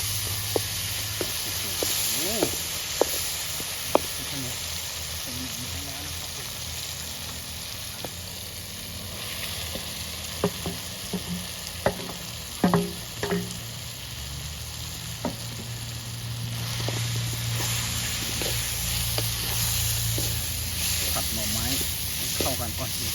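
Tomatoes fry in a pan for stir-fried bamboo shoots with ginger leaves in Shan-style cooking, a continuous sizzle with scattered clicks of a utensil on the pan, while someone talks over it at times.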